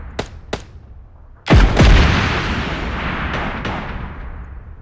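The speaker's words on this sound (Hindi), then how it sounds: "यहाँ पर फायरिंग हो रही लेकिन बंदे नहीं दिख रहे।" Gunfire in the mobile battle-royale game PUBG Mobile Lite: two sharp shots, then a heavy loud blast at about one and a half seconds with a long booming tail, followed by fainter distant shots.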